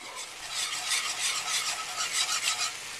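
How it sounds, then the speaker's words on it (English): Barbecue sauce made with ketchup and yellow mustard is stirred as it cooks in a pan, producing a continuous bubbling sizzle with rhythmic swishing pulses from the spoon. "Stir these up"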